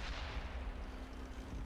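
A tank cannon firing in the video game World of Tanks, a dense booming blast filling the short clip with deep low rumble and a faint steady hum beneath.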